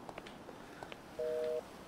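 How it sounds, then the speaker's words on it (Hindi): A single steady two-tone electronic phone tone sounds in the GTA 5 video game for under half a second, faint and clean amid low background ambience and a few soft ticks. "रुक जाओ मेरे पास फोन आ रहा है"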